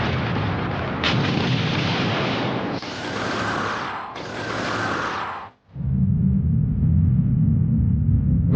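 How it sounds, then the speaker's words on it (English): Detonation in an animated space battleship battle: loud, dense rumbling blasts and whooshing bursts build over several seconds, a brief drop to silence, then a heavy sustained low roar fills the rest. "Sanada, detonate!"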